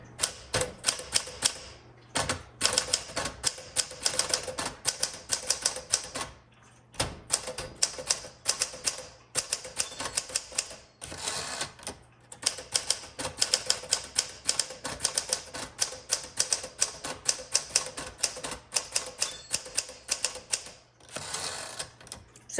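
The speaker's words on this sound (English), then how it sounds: "Let's keep typing." Rapid clacking keystrokes from a 1961 Smith Corona Sterling manual typewriter come in bursts, broken by short pauses and occasional carriage sounds, close and crisp, with no voices.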